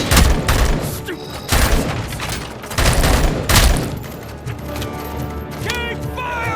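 Heavy bursts of gunfire from the video game RoboCop: Rogue City during a bank robbery mission, loud repeated volleys with booming impacts and mechanical clatter, fading into quieter tonal game effects near the end.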